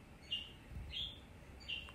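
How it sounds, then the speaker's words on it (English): Pet birds chirp in the background, three short, faint tweets spaced evenly apart over a quiet room. "Those was my pet birds yelling in the background."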